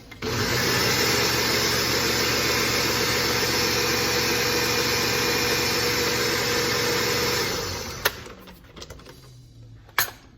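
An electric mixer whirs steadily through a strawberry chocolate mousse mixture, loud and continuous for about seven seconds before winding down and stopping, followed by a couple of sharp clunks.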